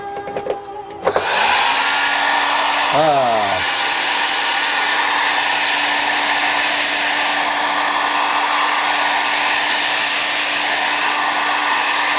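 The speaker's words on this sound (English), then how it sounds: "See what happens with a hairdryer?" A hair dryer switches on and blows with a loud, constant whooshing hum, a brief clatter early on, running steadily throughout.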